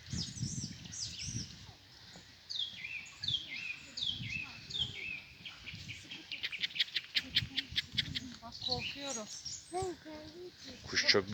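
Birds sing and chirp in rapid trilling phrases, fairly close, while people talk quietly underneath.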